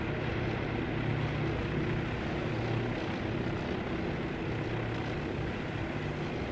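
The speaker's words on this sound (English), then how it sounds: "We'll get these aircraft off." Fighter aircraft taking off from a carrier in Task Force Admiral, a steady dense roar of propeller engines with a constant low drone, without voices.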